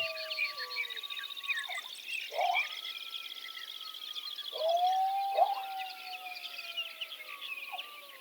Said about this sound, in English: Soon after, the silence was shattered by a cacophony of birds.